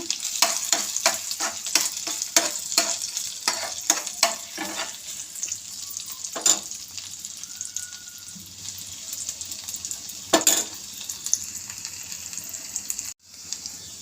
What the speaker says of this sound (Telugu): ముందుగా అల్లం వెల్లుల్లి వేసుకున్నాము మంచిగా చక్కగా వేగిపోవాలండి